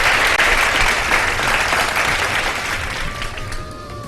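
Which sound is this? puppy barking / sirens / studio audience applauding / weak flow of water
studio audience applauding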